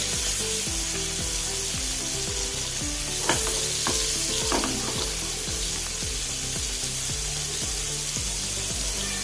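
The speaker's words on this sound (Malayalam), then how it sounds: "എണ്ണ ചൂടായി നമുക്ക് മീൻ വെച്ച് കൊടുക്കാം" Avoli fish (pomfret) frying in hot oil in a pan on a gas stove, giving a steady, close, loud sizzle with a few sharp crackles and spatters, with no talking over it.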